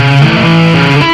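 Distorted electric guitar playing a pentatonic tapping lick, rock style, as a sustained, loud stream of legato notes with smooth pitch shifts and no pauses, alone with no talking.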